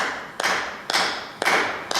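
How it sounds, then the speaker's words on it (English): Four single hand claps, evenly spaced about half a second apart, each sharp and loud in a quiet room with nothing else sounding between them. "I'm going to do clapping."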